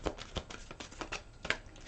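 A deck of law of attraction cards is shuffled by hand, giving a quick, close run of soft papery flicks and taps in an uneven rhythm.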